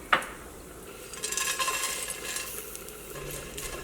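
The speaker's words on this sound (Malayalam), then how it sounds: "ഉണക്ക ചെമ്മീൻ നമുക്കൊന്ന് വറുത്തെടുക്കാം" Dried shrimp dry-roast in a pan, giving a quiet hiss with light scraping and clinking from a stirring spoon. An isolated tap comes at the start, and no one speaks.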